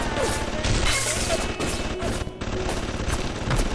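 Gunfire in the video game BioShock: a dense, continuous clatter of shots and crashing impacts, loud and chaotic throughout, with no clear pauses.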